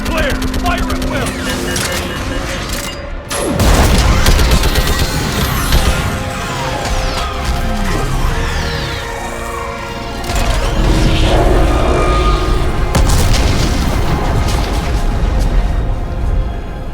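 Starship weapons firing and explosions in the video game Mass Effect 3, loud booming blasts and sweeping whooshes over a constant mechanical rumble, with voices talking throughout.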